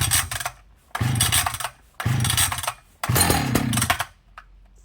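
A stone-cold vintage Husqvarna L77 chainsaw with choke set is pull-started by hand: four loud, close rasping cord pulls, each about a second long with short gaps between them, and the engine catches briefly after the last pull.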